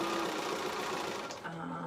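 A sewing machine stitching fabric, a fast steady mechanical whir running close, then easing near the end, with people talking faintly beneath it.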